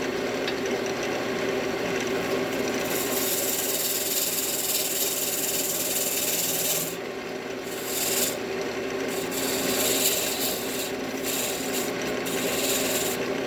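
Wood being cut on a lathe to form a tenon, a steady continuous rasping, scraping sound with a brief dip partway through, close and fairly loud with a constant motor hum underneath.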